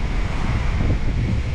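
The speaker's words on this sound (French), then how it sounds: "Désolé les gens pour le vent" Strong outdoor wind buffets a microphone during a car wash, a constant rumbling roar with gusty low-end thumps and broad hiss, no voices heard.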